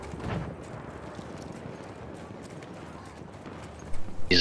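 Steady hoofbeats of a horse ridden in the video game Battlefield 1, a continuous galloping patter under game ambience with someone speaking, ending in a sudden loud burst.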